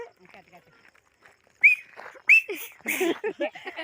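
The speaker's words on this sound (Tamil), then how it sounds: "அம்மா வந்து விசில் அடிக்கிறாங்க" A woman whistles in a few short, sharp, high bursts close by, while people talk and chatter softly around her.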